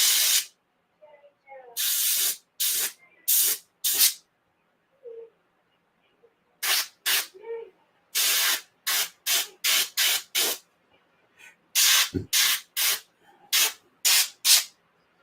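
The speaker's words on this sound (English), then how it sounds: "that primer, because it's put on with an airbrush like that, it will not take long to dry" An airbrush sprays primer onto a miniature in a series of short, sharp hissing bursts separated by silence, clustered in quick groups of three to five, close and fairly soft.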